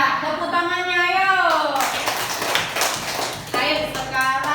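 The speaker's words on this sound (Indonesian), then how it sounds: "Ya, tepuk tangannya ayo." Children applaud together in a classroom after a group presents its work, a burst of clapping over excited chatter and voices, fading as a teacher-like voice speaks at the end.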